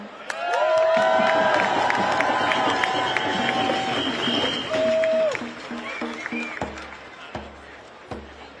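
A large crowd cheers, whoops and shouts at a protest rally over the West Asia war organized with the Muslim American Society of Brooklyn. The cheering is loud and sustained, then fades into scattered voices and a few claps.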